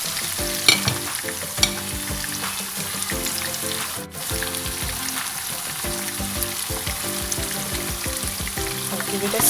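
Egg and spinach noodles stir-frying in a hot pan, a loud continuous sizzle with repeated scraping stirs and occasional clinks, no talk.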